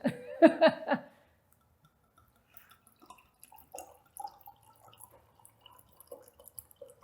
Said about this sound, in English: take the bottle of wine there and pour us what you would pour for yourself for a glass of wine